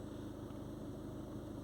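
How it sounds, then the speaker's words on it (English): Volkswagen Tiguan engine with a soot-laden diesel particulate filter (fault P2463) running at held revs around 2000 RPM, a steady low mechanical drone throughout, close and moderately loud. "Now I've got to pick the revs up again"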